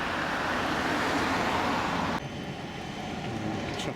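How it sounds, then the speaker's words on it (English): Steady road traffic noise, a broad continuous rumble of passing vehicles that drops noticeably quieter about halfway through. "Traffic noise behind, unfortunately."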